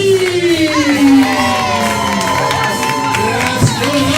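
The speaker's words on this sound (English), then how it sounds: "Let's keep those applause going." Audience at a live main event loudly applauding and cheering, with whoops and shouted voices rising over a dense crowd roar.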